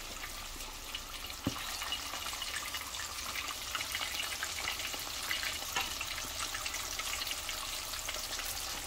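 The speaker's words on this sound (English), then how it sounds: "food is almost done frying" Continuous sizzling and crackling of buffalo fish frying in hot oil, a steady close hiss with occasional pops.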